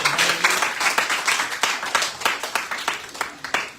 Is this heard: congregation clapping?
yes